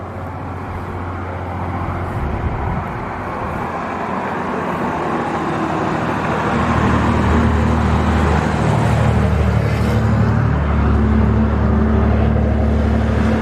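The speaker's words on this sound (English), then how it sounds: "There's a lot of traffic coming out that forest today." Cars pass close by on a road across the top of Hungry Horse Dam, Montana, a loud rushing roar that builds and stays heavy as vehicles stream past.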